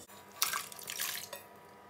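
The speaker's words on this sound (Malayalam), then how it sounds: "അതിലേക്ക് കഴുകി വൃത്തിയാക്കി വെച്ച കപ്പ കൂടി ചേർത്ത് കൊടുക്കാം" Washed tapioca pieces drop into water in a pressure cooker, giving a few soft splashes and sloshing bursts that are fairly faint and close.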